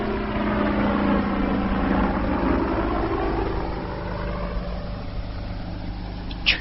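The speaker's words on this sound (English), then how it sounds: "Keep still, it's a helicopter." Helicopter overhead in a BBC radio drama: a steady, droning engine hum with a low rotor-like throb that fades slightly as it passes, alone with no talk.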